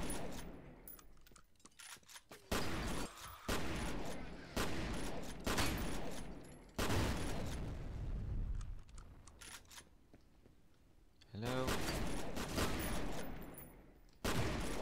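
Bursts of gunfire from a weapon in the F.E.A.R. video game come in several loud volleys separated by quieter gaps, with game effects between them and no speech.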